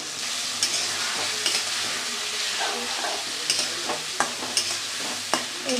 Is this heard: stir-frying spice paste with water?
yes